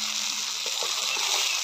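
Pasta going into a hot, sizzling pan for an egg pasta dish, with a dense continuous hiss and a few faint soft knocks from stirring, no voices over it.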